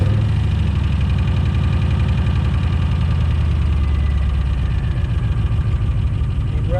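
A 7.0 L 427 LSX V8 engine runs at a loud, steady idle, with a deep rumble and uneven low pulsing throughout and no talking.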